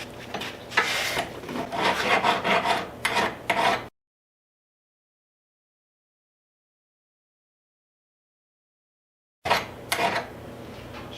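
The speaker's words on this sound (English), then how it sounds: "Now I'm going to take a file and file off that area where it rubs against." A hand file rasps against a metal table saw fence in loud, close, rhythmic strokes, then cuts to silence for several seconds before the scraping briefly resumes.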